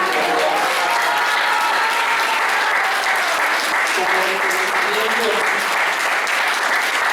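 An audience at a student memory panel gives a teacher strong applause, continuous loud clapping throughout while a voice speaks in Spanish over it.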